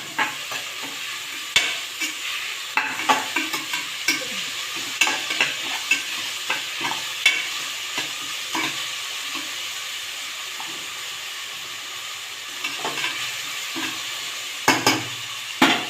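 Onions sautéing in a pan for kuska biryani, a steady close sizzle broken by repeated scraping stirs at irregular intervals, with no voices.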